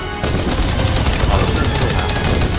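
Rapid automatic gunfire from an auto turret in the game Earthfall, a dense, steady burst of shots after a brief lead-in, loud and continuous with game noise underneath.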